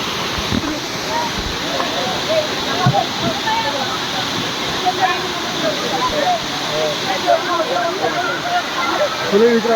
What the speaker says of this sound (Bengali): প্রচুর পরিমাণে ঝর্নার পানি গিয়েছে বেড়ে